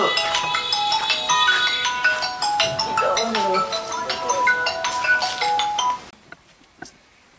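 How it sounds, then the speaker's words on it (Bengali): A mobile phone ringtone plays loudly as a repeating melodic tune for about six seconds, then cuts off abruptly, leaving near silence with a faint click. "ও মা তোমার ফোন বাজে ফোন ধরো"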